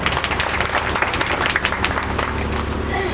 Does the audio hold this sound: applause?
yes